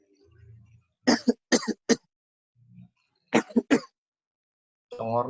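A few coughs or throat clears break up a classroom lesson, with short bursts in two clusters amid quiet, followed by a person starting to talk.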